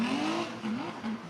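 Drift car on an FIA IDC qualifying solo run, its engine revving in rising and falling pitch as it accelerates, fairly distant and faint.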